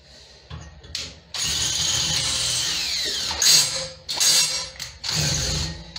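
A power drill works through sheet metal at a grill in loud, sustained grinding runs, broken by short pauses and sharp screeching peaks as the bit bites and restarts.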